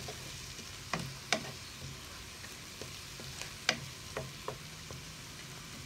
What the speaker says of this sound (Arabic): صافي نتسنى على البصيله ديالي تشحر ونضيف باقي المكونات